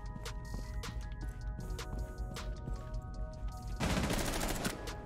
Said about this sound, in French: on l'entend toujours tirer au MP5